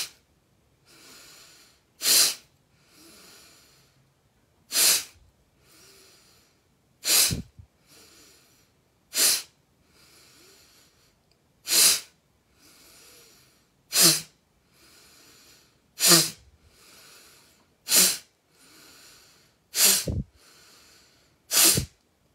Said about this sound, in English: you breathe in as deeply as you can. You inhale. And you push it out from your navel